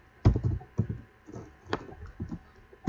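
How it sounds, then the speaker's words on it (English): Clacking keys of a computer keyboard during typing, a series of sharp, close taps in an irregular rhythm with short pauses between bursts. "Sorry if you guys can hear the clacking of my keys."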